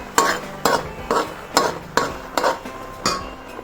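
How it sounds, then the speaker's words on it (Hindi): Carrot barfi mixture being stirred in a pan, with a regular rhythm of about eight scraping, clinking strokes of a spoon against the pan over a faint sizzle, close and fairly loud, with no speech. "फिर भी हम आधा मिनट और इसको हिलाते रहेंगे ताकि चीनी अच्छी तरह से मिक्स हो जाए।"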